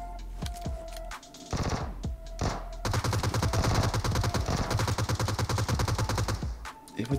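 Scattered single shots give way to long, rapid bursts of automatic gunfire in PUBG Mobile's Metro Royale mode, loud and dense, with sharp cracks continuing near the end.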